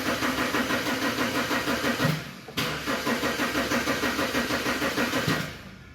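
A BMW 120i with a suspected fuel pump relay fault cranks with a fast, rhythmic starter chug close by, pauses briefly, then keeps cranking before the sound fades at the end.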